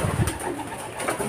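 Racing pigeons coo at a Filipino loft in a short, close burst of soft, throaty calls over light background noise.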